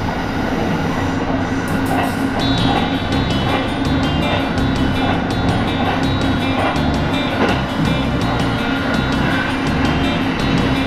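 A train on the Osaka Line heads into the mountain crossing from the Kansai region toward Tokai. It gives a loud, close, unbroken rumble with regular wheel clicks over rail joints throughout, and no one speaks.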